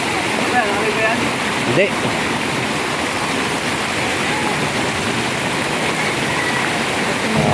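Floodwater rushes past in a loud, continuous broadband roar of strong current, heard close and steady throughout while people talk in Tagalog over it.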